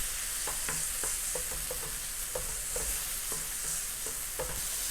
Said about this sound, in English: in a medium-high heat or very high heat, stir fry for at least 3 to 5 minutes